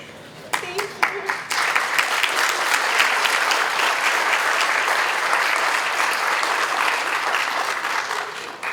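A few isolated claps give way to sustained, steady audience applause at a recognition day ceremony for award recipients, loud and even throughout.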